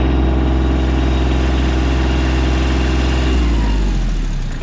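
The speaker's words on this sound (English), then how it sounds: "So we'll just rev the engine a bit." A loud engine runs steadily with a deep, constant rumble, then its pitch shifts near the end as it revs, while moving chicken tractors on a laying-hen farm. No voices.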